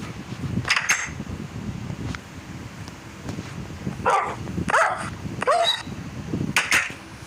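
A puppy barks and yips in short, sharp bursts, a few scattered yelps followed by a quicker cluster, close by over a low background hum.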